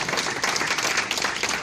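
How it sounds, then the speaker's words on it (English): A round of applause at a community board meeting, a room of people clapping briskly together in a dense, fairly close patter without any speech. "I think they deserve a round of applause."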